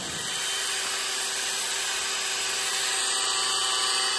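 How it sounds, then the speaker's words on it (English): A barrel-bit Dremel rotary tool rounds a horn tip overlay on a self bow longbow, giving a steady, loud high-pitched whine and grinding that runs unbroken and close throughout, with no talking. "Then I'm going to take a barrel Dremel and make it nice and round"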